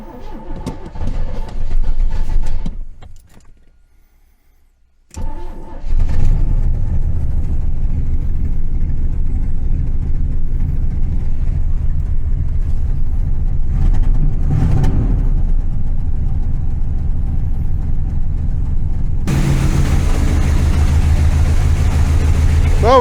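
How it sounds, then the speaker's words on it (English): Rochester-carbureted C3 Corvette engine idling rich and rough, a loud, steady low rumble close by after a brief quiet gap, with someone talking over it. "This carburetor is also running really, really rich. It's not running real smooth."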